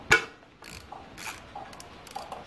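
Ratchet with a 12mm 6-point deep socket on an extension loosening an intake manifold fastener on a Nissan VQ35DE engine: a sharp metallic knock, then a few quiet, spaced clicks close by.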